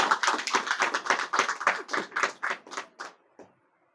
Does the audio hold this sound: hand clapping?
yes